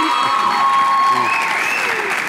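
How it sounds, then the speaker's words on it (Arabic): Studio audience applauding on a Tunisian television show, a loud continuous patter of clapping with voices talking over it throughout. "صفقوا كيما صفقتوا لنا"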